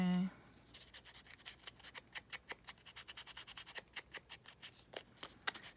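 Scissors snipping through a small cardboard Apple Watch box, a quick series of crisp, close cuts in an uneven rhythm, fairly quiet and heard alone.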